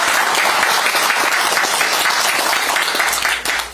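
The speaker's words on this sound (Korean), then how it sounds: "뜨거운 박수로 시작하겠습니다" Sustained applause from a crowd at a public event in Jukdo Market, Pohang, dense and steady throughout before tapering slightly at the end.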